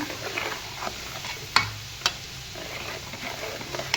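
Chili powder being stirred into hot garlic tempering for Diwali poha chivda, the gas just switched off: a soft, low sizzle with a few sharp spoon clicks against the pan.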